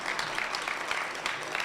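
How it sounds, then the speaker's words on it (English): An audience at a medical school announcement event in Tyler, East Texas claps for officials, a brief burst of dense, steady applause filling the room. "Let's give them a round of applause for all they do for us."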